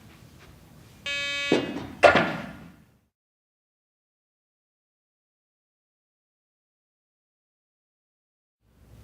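A Garrett PD6500i walk-through metal detector sounds its alarm as a weapon is thrown through it: a short electronic tone burst followed by a sharp clatter, then long silence.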